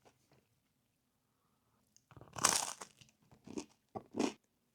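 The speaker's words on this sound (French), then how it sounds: "Ça croustille." A slice of buttered bread is bitten at breakfast, giving a few close, crisp crunches in quick succession after a quiet pause, with no talking.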